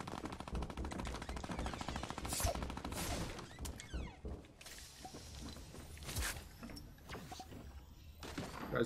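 Fortnite gunfire in a solo match rattles in rapid automatic bursts mixed with sharper single shots and mechanical clacks. It plays fairly quietly and continuously, with no voices.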